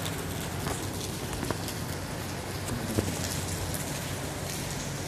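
Rain falls over Karachi in a steady, dense patter with scattered sharper drops, continuous and fairly close, with no voices over it.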